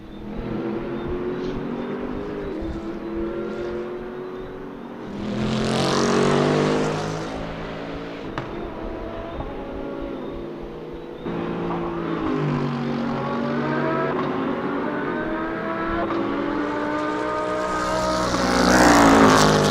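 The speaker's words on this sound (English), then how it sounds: "Beautiful looking car there, that Bentley." A Bentley GT3 race car laps the Nürburgring GP circuit in a racing video game, its engine loud and close, revving up through the gears with repeated rising pitch sweeps and brief shift breaks, alone without talk.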